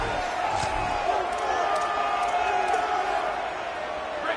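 A football stadium crowd roars on third and four, a broad sustained wall of noise with whoops under a commentator's voice.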